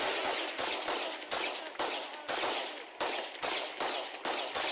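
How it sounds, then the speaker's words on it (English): Rapid bursts of gunfire from Ukrainian police shooting at incoming drones, a dozen or so sharp, loud cracks in an uneven rhythm, each with a short echoing tail, close by and alone. "They're now firing at the drone,"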